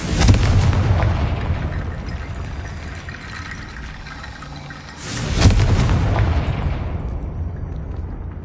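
Two heavy booming blasts from the Confringo blasting spell in the Hogwarts Legacy video game, each a loud explosive burst with a long roaring, crackling decay, the second coming about five seconds after the first.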